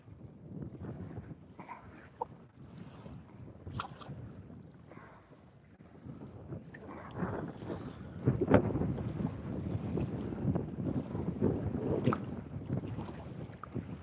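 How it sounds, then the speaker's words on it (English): Gusty wind buffets the microphone outdoors on a boat during a catfish fishing trip, a low rumbling roar that thickens and grows louder in the second half, with a few sharp knocks. "That wind is just fucking killing me here."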